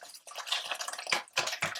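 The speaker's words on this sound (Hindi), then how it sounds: "तो आहिस्ता आहिस्ता पानी डालते हैं" Water trickles slowly into chicken koliwada batter in a bowl, with uneven splashy bursts and small drips over a short stretch, fairly close and with no talking.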